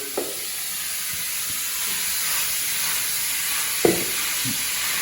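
Steady sizzling hiss of meat frying in a hot pan, with a couple of brief clanks from a utensil, no talking.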